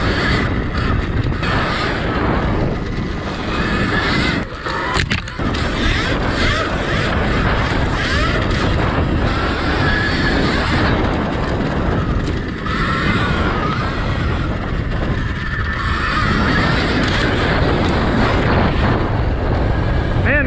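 An Alta electric dirt bike ridden on West Texas trails, its motor whine blended into heavy, continuous wind buffeting and rushing noise that stays loud and steady throughout, with no speech.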